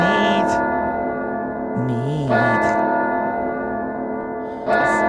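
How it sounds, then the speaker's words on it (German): Church bells toll in the horror video game Madison, with several strong tonal strikes ringing out over a steady, sustained hum and a faint wavering tone, loud and close. "ich hör die Glocken schon!"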